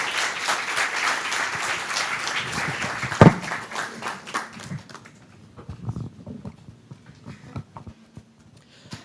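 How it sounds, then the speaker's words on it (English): An audience claps after a presentation at a meeting, a burst of applause that swells with one sharp thump, then thins into scattered claps and fades. "Round of applause."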